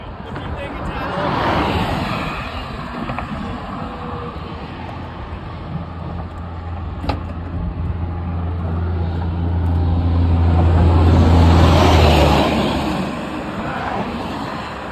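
Car towing a trailer on a highway, a steady rolling road rumble and engine drone that swells and fades, with people talking inside the cabin over the noise.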